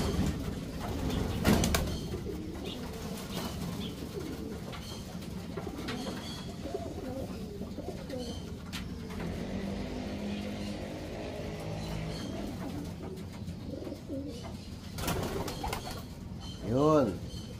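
Soft pigeon cooing drifts through a noisy background, ending in a clearer rolling coo near the end.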